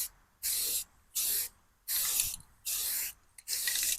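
Five bursts of aerosol spray paint laying down a base coat on a rifle, each hissing pass lasting about half a second with short pauses between, close and fairly loud.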